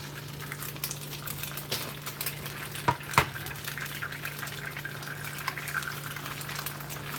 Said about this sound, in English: Let's see if I can manage to break the eggs.